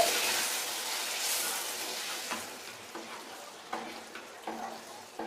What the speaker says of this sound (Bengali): এখন এই মশলাগুলোর সঙ্গে ইলিশ মাছের মাথাটাকে আমি আরও একটু ফ্রাই করে নিচ্ছি